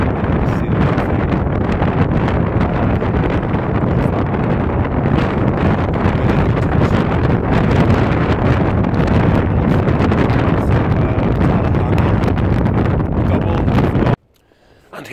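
Strong, relentless wind gusts battering a tent and microphone on a mountainside at wild camp, a loud continuous roar that cuts out abruptly near the end.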